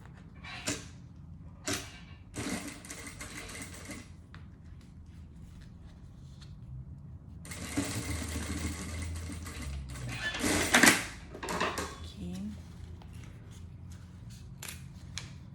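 A sewing machine stitches a seam on a toiletry bag, opening with brief bursts and then a longer stretch of stitching that swells louder near the middle, with creaks and small handling clicks nearby and no talk.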